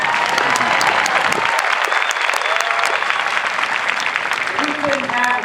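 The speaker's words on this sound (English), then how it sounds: "please give her another round of applause" Outdoor crowd at an Air Force Basic Military Training parade gives loud, sustained applause, dense steady clapping with some cheering and voices mixed in.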